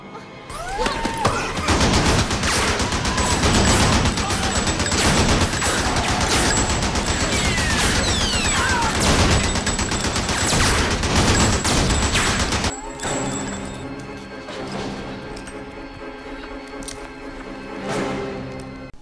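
Heavy, continuous bursts of automated gunfire in a sci-fi firefight at an enemy-held space outpost from the 1998 film Legion, loud and dense for most of the stretch before dropping to a quieter, ringing tail.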